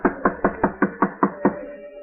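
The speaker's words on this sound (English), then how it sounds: "I'll knock." Eight steady knocks on a door, evenly spaced and fairly close, then quiet; no one speaks over them.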